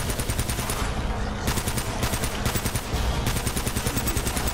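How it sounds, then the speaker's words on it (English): Rapid gunfire from the player in the video game Uncharted: Drake's Fortune, a dense stream of evenly spaced shots with brief pauses between bursts, loud and continuous. "I'm blowing through all my bullets because I'm trying to fight these guys"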